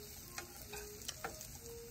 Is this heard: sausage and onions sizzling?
yes